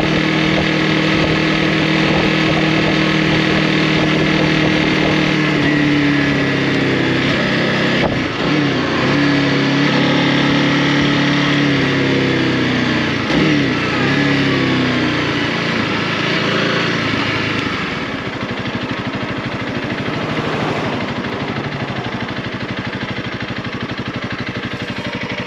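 A Honda CRF300L single-cylinder motorcycle engine revs up and down repeatedly during wheelies, a loud, close drone with surging pitch and wind noise, no talk.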